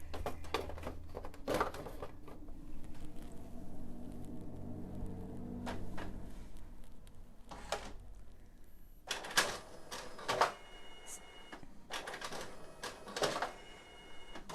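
A home inkjet printer pulls in a sheet of heavy brown cardstock, with whirring feed motor runs, clicks and sharp mechanical clunks spaced out over quiet stretches, heard close and fairly faint.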